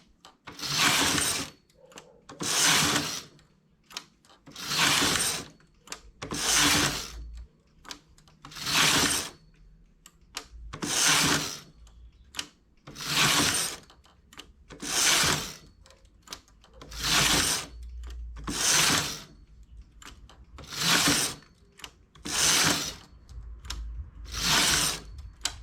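A knitting machine raises needles while working a colourful geometric pattern, giving a regular series of loud mechanical clacking passes, about a dozen bursts evenly spaced with short quiet gaps between.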